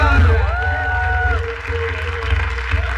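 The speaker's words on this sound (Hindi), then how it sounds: "पर एक बार जोरदार तालियां बजाओ।" Loud audience applause at a live show, a dense, steady clatter of clapping with scattered cheers and whoops, and a bright musical tone sweeping over it early on.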